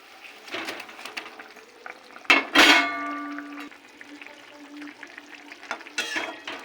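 Curry gravy with fried eggplant in a pot, a soft bubbling simmer with scattered stirring clatters and one louder splashy burst midway, fairly close, no talk.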